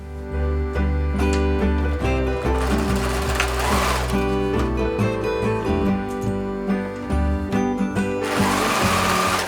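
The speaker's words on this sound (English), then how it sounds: "in between me sewing all of this" A sewing machine stitches a floral vest, running in a steady continuous drone for several seconds at close range, dense and fairly loud throughout.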